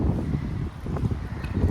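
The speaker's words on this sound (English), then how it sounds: "It's starting to get really windy, so I'm not sure how much you guys can hear." Strong wind buffets the microphone in a spring garden, a steady, loud, rumbling gusting roar with no talking.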